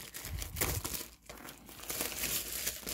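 Plastic wrapper on a box of 1999 Collector's Edge Fury NFL trading cards being cut and pulled open, a continuous close crinkling and crackling that briefly dips before resuming.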